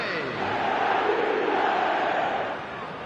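A stadium crowd in an eFootball match roars after a goal. The dense, swelling roar of thousands of voices stays loud for a few seconds, then begins to ease.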